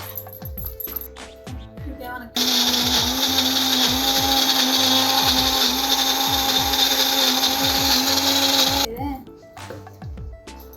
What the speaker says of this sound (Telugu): మిక్సీ పట్టేదానికి ఈజీగా ఉంటుంది.